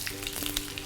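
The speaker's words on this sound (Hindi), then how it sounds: "अभी तेल में गई राई, सूखी मिर्च" Mustard seeds, dried chilies and curry leaves crackling in hot oil for dhokla tempering, a brief steady sizzle with a few faint pops.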